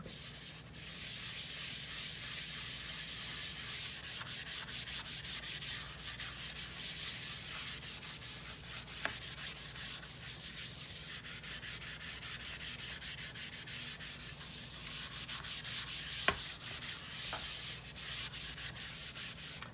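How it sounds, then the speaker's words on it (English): A sink scrubbed with Bar Keepers Friend cleanser mixed with Dawn dish soap and a little water, giving a steady, continuous abrasive rubbing that runs the whole time with a few brief sharper knocks and no voices. "And start scrubbing."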